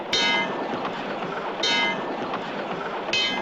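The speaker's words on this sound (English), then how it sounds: "And riding on subways." Cartoon subway train effect, a steady rumbling rail ride broken by three evenly spaced clattering hiss accents, loud and continuous with no talking.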